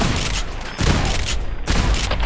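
A modded M590 military pump shotgun in Fallout 4 on Xbox fires three heavy booming blasts, each followed by a brief lull, close and loud.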